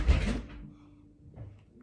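A household door closes with a loud thump at the start, then faint rattles and a softer knock follow in a quiet room.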